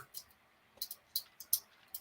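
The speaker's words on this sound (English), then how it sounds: "I was only typing a very simple sentence." Quick, faint clicks of keys on a computer keyboard, a few scattered taps and short bursts with brief pauses between them, close by in a quiet room.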